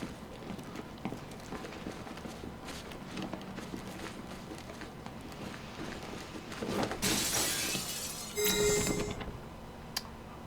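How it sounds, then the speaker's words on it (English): Glass breaking in the video game Batman: Arkham Knight: a sharp crash of shattering panes rings out about two thirds through, followed by a second burst of tinkling shards over quiet game ambience. "Oh, you can break the glass."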